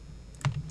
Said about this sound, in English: we are going to do a find function on our keyboard, Control F for 2750